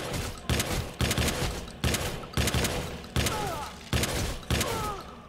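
Repeated shotgun blasts in the video game Watch Dogs 2, seven loud booming shots at roughly one-second intervals, each with a sharp attack and a decaying tail, with faint game effects underneath.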